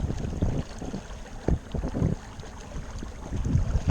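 A motorboat cruising across water with a low, churning hull and wind rumble, uneven thumps of waves slapping the hull, close and fairly loud.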